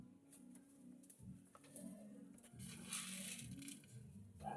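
Pigeons cooing at a rural spot in Binangonan, Rizal, with soft low murmuring coos repeating through steady outdoor background noise, plus some faint rustling.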